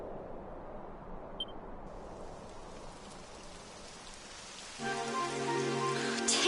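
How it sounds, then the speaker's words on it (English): Rain begins falling in the video game Dragon Quest XI, a steady hiss of rainfall that thickens and grows louder toward the end, with no voices. "It would have to go and start raining, wouldn't it?"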